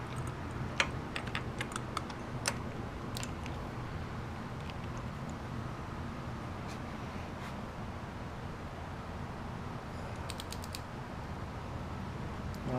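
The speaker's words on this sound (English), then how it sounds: "this is a Harbor Freight torque wrench" Clicks of a Harbor Freight torque wrench set to 115 inch-pounds as it tightens a spark plug on a 2011 Kawasaki Ninja 250 motorcycle, with sparse faint ratchet clicks over a steady low hum.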